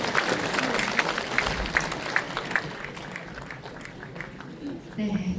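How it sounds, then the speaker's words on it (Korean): Audience applause fills a hall at a book launch event at Jeonju University's Superstar Hall, steady clapping with some crowd noise and voices mixed in throughout. "여러분들도 함께 응해 주신다면 큰 박수로 화답해 주시면 감사하겠습니다"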